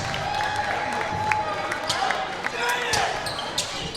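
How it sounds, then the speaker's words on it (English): Fans at a high school varsity women's basketball game between East Wake and Clayton in a gym applaud both teams, with continuous clapping and crowd noise at a steady level. "Fans, let's give both teams a round of applause"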